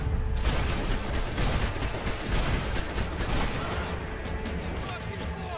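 Gunfire in the video game Max Payne 3, a dense continuous barrage of shots and bursts that stays loud and close the whole time with little pause.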